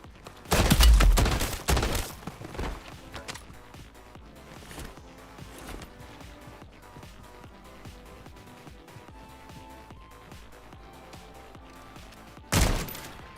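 Video game gunfire opens with a loud, rapid burst of shots. Scattered softer pops and thuds follow over a busy game soundscape, and one more sharp shot lands near the end.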